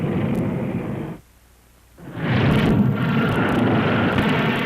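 An Honest John rocket launches from a light launcher frame with a loud, broad roaring rush that briefly drops away and then returns even stronger and sustained.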